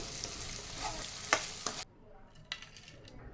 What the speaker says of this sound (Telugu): ఫ్రై చేసుకున్న కరివేపాకు కూడా వేసి ఒకసారి కలుపుకుందాం